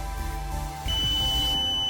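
A buzzer on a microcontroller door-control prototype switches on when the room quota is full, a steady high electronic tone starting partway through over a constant hum, loud and close.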